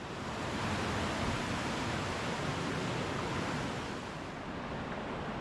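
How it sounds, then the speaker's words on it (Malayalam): Ezharakundu waterfall in Kannur district roars as dense, continuous broadband water noise, loud and steady, with no voices. "കണ്ണൂർ ജില്ലയിലെ പ്രധാനപ്പെട്ട വെള്ളച്ചാട്ടങ്ങളിലൊന്നാണ് ഏഴരക്കുണ്ട് വെള്ളച്ചാട്ടം"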